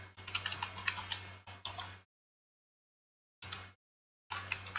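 Rapid typing of code on a computer keyboard comes in bursts of dense clicking, separated by full silent pauses. The keys sound close and moderately quiet, with no talking.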